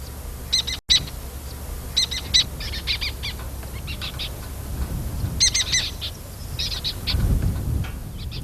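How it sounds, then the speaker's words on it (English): Lesser kestrels call from steppe farmland at Castro Verde, Portugal, giving repeated bursts of high, sharp chattering notes in short clusters at moderate distance over a low outdoor background. "It's one of Europe's rarest falcons, the lesser kestrel."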